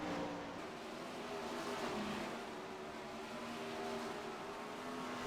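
410 sprint cars race on the dirt oval at Knoxville, a steady dense roar of engines carrying from a distance without letting up, with no voices over it.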